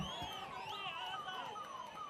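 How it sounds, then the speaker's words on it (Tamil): An ambulance siren wails with rising and falling sweeps as it moves past a political campaign rally in Tamil Nadu. The siren is moderately loud over a steady crowd murmur. "எனவே உங்களை எல்லாம் ஆம்புலன்ஸ் வழி விட்டுருங்க"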